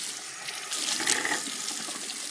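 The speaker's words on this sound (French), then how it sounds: "on va se rincer un peu la bouche" Tap water runs steadily into a bathroom sink while someone rinses their mouth, a continuous close hiss that swells slightly partway through.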